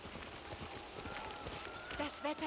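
Horse hooves galloping in Ghost of Tsushima, a rapid steady clatter of hoofbeats close by, mixed with wind or rain ambience and brief game sounds.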